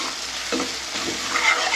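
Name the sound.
chillies being sautéed in a pan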